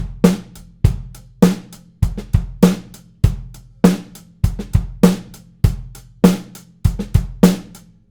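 A steady drum kit pattern of kick, crisp snare hits, hi-hats and quiet ghost strokes, repeating evenly in a dry close-miked room, with no voices.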